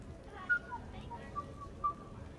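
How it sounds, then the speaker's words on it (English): A character in the Mass Effect 3 video game whistles a few soft, short notes in a quiet melody, faint over a steady low background hum. "Are you whistling?"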